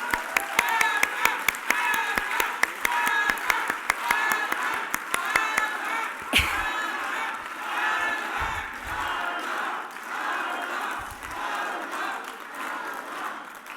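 A crowd at a Mexican political session applauds to honour rehabilitation centres. Dense, rapid clapping comes with shouts and cheers, then thins after about six seconds into a lingering crowd murmur and scattered voices.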